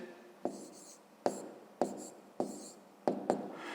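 Pen strokes scratch across paper as an equation answer is written out for a fifth-grade maths exercise, six short close taps and scribbles in a steady rhythm over faint room noise.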